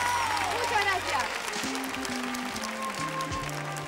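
Children in a TV game-show studio at a 1982 New Year's Eve special applaud, a dense, steady patter of clapping running the whole time under sustained musical notes.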